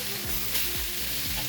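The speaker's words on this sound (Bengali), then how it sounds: "মাছগুলো ভেজে নেওয়ার জন্য পরিমাণ একটু করে তেল দিয়ে সামান্য একটু লবণ দিয়ে মাছগুলো দিয়ে দেবো" Fish pieces fry in hot oil with a pinch of salt in a pan, giving a steady close sizzle with soft stirring touches throughout.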